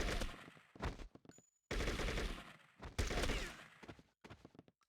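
An AK rifle in the video game True Crime: New York City fires in loud bursts of rapid automatic gunfire, separated by short silent gaps and trailed by a few single shots.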